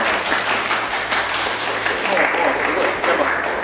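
A studio audience claps steadily through a live free-talk stage show, a thick continuous patter of hands with a faint low hum underneath and no clear break.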